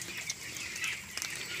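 A dense, high-pitched chorus of many chicks peeping steadily inside a poultry farm shed, with no voices.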